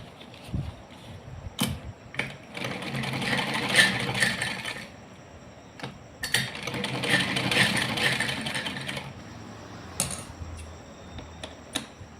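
A domestic sewing machine runs in two sustained bursts, stitching elastic into the waistband of palazzo trousers, its rapid mechanical chatter close and steady with short clicks and handling noises between runs.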